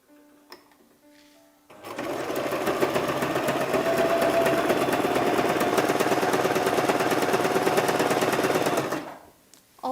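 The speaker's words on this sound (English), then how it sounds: "I'll weave it round with a zigzag stitch and fold inwards." A sewing machine runs a continuous zigzag stitch along the hem of a little girl's play dress, a loud steady mechanical whir lasting about seven seconds with quiet pauses before and after.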